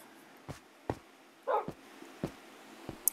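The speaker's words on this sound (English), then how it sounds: "Oh, we got dogs." Dogs bark in Minecraft in a string of six short, sharp yaps spread unevenly over a few seconds. They sound moderately close against a quiet hum, and the last bark is the loudest.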